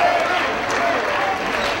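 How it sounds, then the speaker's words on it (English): A high school boys basketball crowd at Norristown versus CB West cheering and clapping during a close game, a loud, sustained wash of applause and shouting filling the gym. "The crowd's really into this game."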